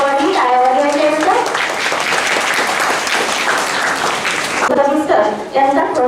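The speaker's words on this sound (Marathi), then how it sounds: "सर्वांनी टाळ्या वाजवायच्या." Continuous applause from an audience at Tilak Vidyalaya school in Dhantoli, Nagpur, on Independence Day fills the room, loud and dense for several seconds, with someone speaking briefly before and after.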